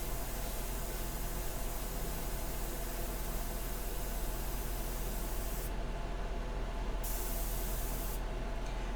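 Airbrush spraying India ink onto Masonite for a nude figure painting, a steady continuous hiss of compressed air running the whole time, with brief dips in the highest hiss near the end.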